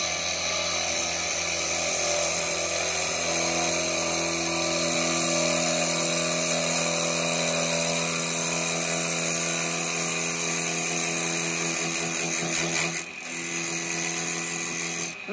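Woodturning gouge cutting an out-of-round small wooden pot on a lathe, a loud, continuous whirring drone with a rough chattering edge, held for many seconds before a brief dip near the end.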